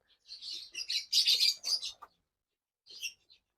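Two female lovebirds give bursts of sharp, high chirps and squeaky tweets nearby, a busy flurry of calls followed by a pause and then a short final chirp, with nothing else heard.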